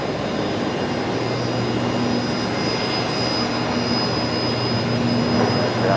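Virgin Australia jet, flight Velocity 981 from Sydney, arriving at Brisbane Airport at night, a steady, broad jet engine roar holding at an even level throughout, with no voices.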